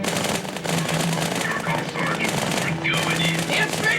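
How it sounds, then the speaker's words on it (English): Dual SMGs fire in the Halo 2 video game, a dense, continuous rattle of rapid automatic gunfire heard loud beneath someone speaking. "you will begin to tear into the grunts with your 2 SMGs"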